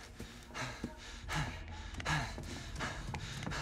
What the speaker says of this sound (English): I'm breathing loud.